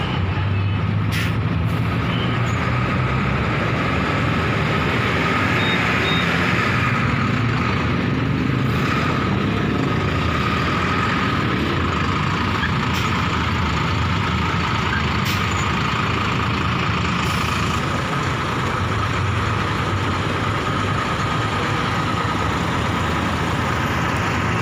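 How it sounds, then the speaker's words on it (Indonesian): A Cahaya Transwisata bus pulling into Lembang Ciledug bus terminal in Indonesia, with a continuous loud diesel engine rumble and traffic noise throughout, plus occasional short hissing bursts like air brakes. "Ini dia bus Cahaya Transwisata yang baru beberapa hari atau udah sebulanan baru masuk"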